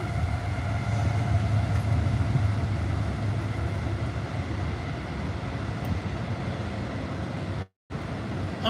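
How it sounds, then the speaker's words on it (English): A big freight or passenger train rolls steadily past, a loud, continuous rumble and clatter of wheels on rails that holds evenly for several seconds before a brief cut to silence near the end. "Let's let this big ass train go by."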